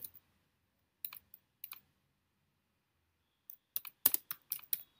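Computer keyboard typing as Python while-loop code is entered: short scattered clusters of key clicks separated by pauses, ending in a denser run of quick keystrokes, close and fairly quiet with no talking.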